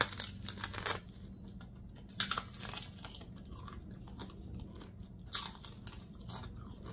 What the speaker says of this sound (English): I want to show you how crunchy our tostadas are.